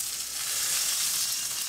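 Oil sizzling in a hot wok ahead of a Chinese beef curry, a steady dense hiss of frying held at an even level throughout, with no talk over it.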